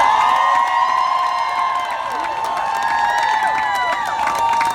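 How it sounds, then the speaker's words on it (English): A crowd at a student rally at Governors State University claps and cheers loudly and continuously, with scattered whoops and shouts rising from the mass of applause. "How about another round of applause for your Student Senate President, Mr. Michael Van Arsdale"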